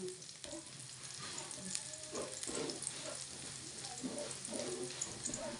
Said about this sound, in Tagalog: lutuin po na natin ang ating sibuyas. Lagyan na natin bawang